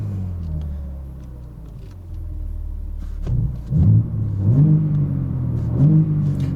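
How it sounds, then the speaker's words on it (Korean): A 510-horsepower BMW M3 Competition sedan's exhaust in normal comfort mode gives a steady low rumble close by, then swells into two or three throaty rev blips toward the end. "지금 이게 이제 노멀 컴포트 모드일 때 배기음인데요."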